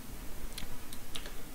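A few light clicks of typing on a computer keyboard, soft and close, scattered irregularly over a quiet background.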